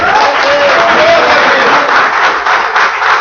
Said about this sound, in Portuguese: Uma salva de palmas a Ele.